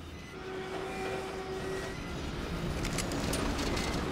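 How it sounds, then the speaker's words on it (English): Rail vehicle riding the skyline rail in the video game BioShock Infinite, a steady loud rumbling rush with faint metallic whines and brighter hissing bursts near the end, no voices. "give me a sec while I get acquainted to the controls of the skyline."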